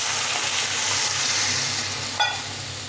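Fish curry masala frying in a pan, a steady broadband sizzle running throughout with one brief clink near the end.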